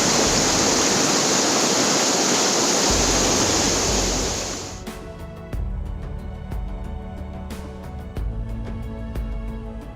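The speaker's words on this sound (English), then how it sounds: "below me is a huge crevice in which the glacier water is falling down" Glacier meltwater plunges into a deep crevice high in the Himalaya. A loud, roaring broadband rush fills the first half, then drops away to a quieter trickling and a faint ticking background.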